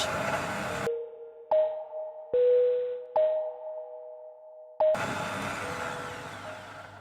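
An electric mixer on low speed blends buckwheat flour and salt in short on-off bursts, a steady whirring hum between stops, with louder handling noise before and after.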